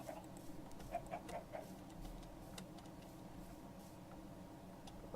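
Minecraft chicken clucking in the game, a few short soft clucks early on over a steady low background hum, quiet and with no talk.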